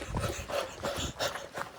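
A dog on a hiking trail making several short, close vocal sounds, yips and whimpers with panting breaths, in uneven bursts over outdoor background noise.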